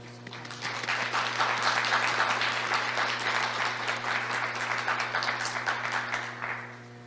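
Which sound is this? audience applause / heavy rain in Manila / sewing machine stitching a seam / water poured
audience applause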